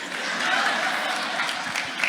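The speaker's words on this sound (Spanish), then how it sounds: "no aplaudas porque me quitas el tiempo aplaudiendo" Dense, steady applause from a church conference audience, a continuous crowd of clapping at moderate volume with faint scattered laughter mixed in.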